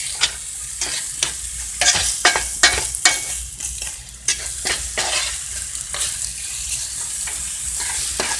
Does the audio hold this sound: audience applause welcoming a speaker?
no